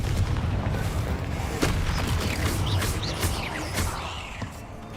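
Confringo blasting spell fired in Hogwarts Legacy during a fight with spiders, heavy booming low impacts with sharp bursts and crackling debris, loud and close, with faint game sounds layered over the blasts.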